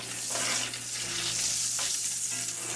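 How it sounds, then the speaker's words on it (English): Hamburger meat sizzles loudly in a skillet while a utensil scrapes and breaks it up off the bottom, steady close frying with intermittent scraping strokes and no speech. "I'm going to scrape and try to get some of that hamburger broken up that's stuck to the bottom."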